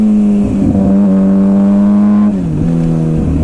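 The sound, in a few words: 2007 Suzuki GSXR 600 motorcycle engine revving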